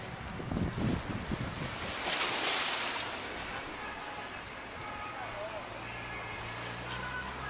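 Water waves at the English seaside washing in a soft steady wash with wind noise across the microphone, while voices talk faintly in the background.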